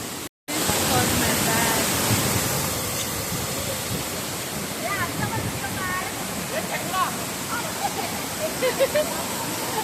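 A steady, roaring rush of falling water from Savdav waterfall in Konkan fills the clip, broad and constant, with faint voices and chirps audible beneath it.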